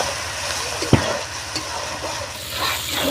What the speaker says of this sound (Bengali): খুব ভালো করে আমি সব মশলাগুলো কষিয়ে নেব।